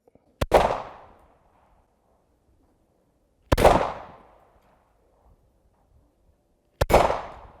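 Three sharp, loud gunshots are fired at a target, each a single crack with a short decaying tail, spaced a few seconds apart with near silence between them.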